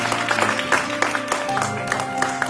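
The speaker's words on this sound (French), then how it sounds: "Il faut les applaudir encore une dernière fois." An audience at a hypnosis show claps in sustained applause, a dense patter of many hands at fairly close range with some voices mixed in.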